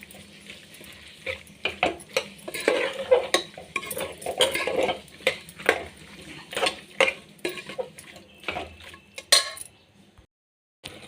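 Kitchen cooking for tomato bath: utensil scraping and clinking against a pan as chopped tomatoes are stirred and fried, irregular close taps and scrapes over a faint sizzle, ending in brief silence.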